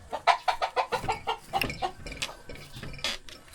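Rhode Island chickens cluck in a quick, rhythmic run of close, fairly loud calls inside a coop, then looser scattered clucks from the flock.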